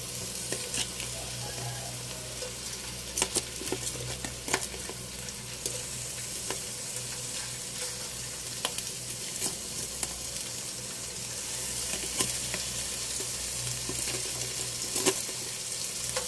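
Shrimp and vegetables fry in a hot pan with a steady, dense sizzle, broken by frequent scraping clicks of stirring close by, continuous throughout with no talking.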